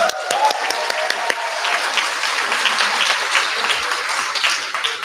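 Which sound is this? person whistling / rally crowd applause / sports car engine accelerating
rally crowd applause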